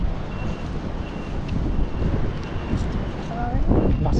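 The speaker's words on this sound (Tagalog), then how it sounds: "Lakas ang hangin." Strong wind buffeting the microphone beside mangrove trees, a loud, continuous roar without pause, with a voice briefly heard under it.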